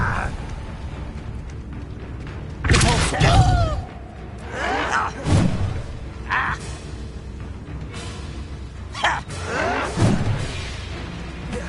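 Hogwarts Legacy Incendio fire spell cast several times: sharp whooshing bursts of flame with crackling tails, spaced a couple of seconds apart over a low ambient game backdrop, with brief vocal sounds between them.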